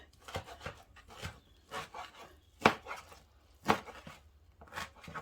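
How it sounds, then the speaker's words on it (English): A knife roughly chops wild garlic on a cutting board in an uneven rhythm, with a few sharper, louder strikes standing out. "So you can just see I'm just roughly chopping it up, and now I have a better knife."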